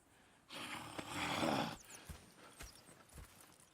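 A horse snorts and breathes heavily, followed by a few soft, scattered hoof clops on the ground, in the video game Red Dead Redemption 2.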